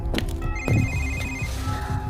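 A telephone rings inside a house at night, a steady electronic ring tone repeating over about two seconds with a faint low background hum and no talking.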